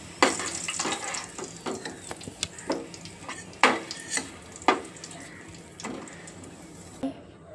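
Fried potatoes are lifted out of hot oil in a home kitchen, with a low background sizzle broken by a string of sharp metal scrapes and clinks from the utensil against the pan.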